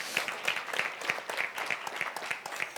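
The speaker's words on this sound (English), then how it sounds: "Let's give her a big round of applause." An audience at a panel gathering claps for its facilitator, a faint, steady patter of hands with evenly spaced accents, sounding like a small group, with no voices over it.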